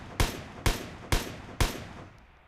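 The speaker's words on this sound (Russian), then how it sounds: "у нас ДМР-ка стреляет через, грубо говоря, через определенный промежуток времени" A DMR rifle in the mobile shooter PUBG New State fires four evenly spaced sharp shots, each a loud crack with a short decaying tail, alone with no talk.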